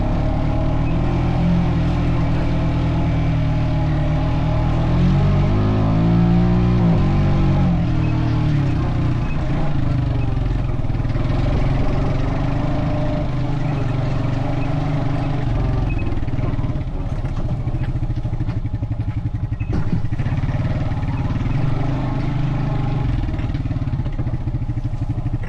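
A Honda Pioneer 520 side-by-side engine runs steadily at a moderate, even drone throughout, with slight shifts in pitch, heard close with no clear talk over it.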